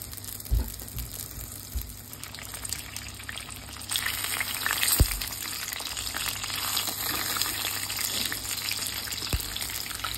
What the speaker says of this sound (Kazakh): биляшты осылай бетін төмен қаратып, қуырып аламыз